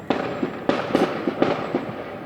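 Distant fireworks bursting outdoors at night, a series of sharp booms spaced irregularly about every half second, moderately loud and echoing, with no talk over them.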